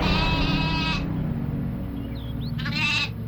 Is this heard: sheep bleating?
yes